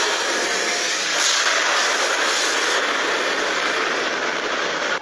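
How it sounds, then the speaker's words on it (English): Designed rocket launch sound made from layered engine roars and explosions: a dense, loud, continuous roaring rush that holds steady for several seconds with a slight swell near the start. "I layered a bunch of engine sounds with explosions to really give it that"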